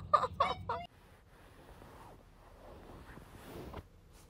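Chickens cluck in a short burst of two or three loud calls outdoors on a very cold, sunny day in August, followed by quiet background.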